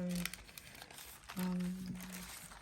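Tissue paper crinkles softly in short rustling bursts near the listener, faint and intermittent, with quiet talking and a low hum between the rustles.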